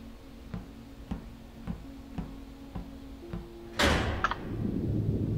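A door in the video game DOOR swings open or shut with a sudden loud rattling slam, after a run of soft, evenly spaced ticks.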